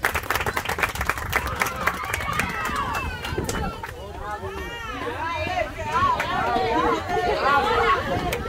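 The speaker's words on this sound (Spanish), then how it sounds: "Que sean fuertes los aplausos." A crowd at a sports award ceremony claps for a second-place football team, scattered applause blending with chatter and cheering voices, moderately loud and busy, while people talk over it.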